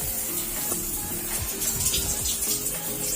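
Tap water runs steadily through a newly installed water heater with filter, a continuous rushing, splashing stream close by with no voices.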